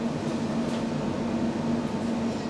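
A train at Fenchurch Street station in London rumbles steadily with a constant low hum, a near and even drone of rail noise with no talk.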